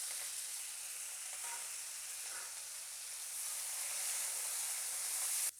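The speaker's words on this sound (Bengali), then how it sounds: "পেঁয়াজটা ভেজে নেব লাল করে।" Sliced onions fry in hot oil with cumin and bay leaf, a steady close sizzle and hiss that swells slightly before cutting off abruptly.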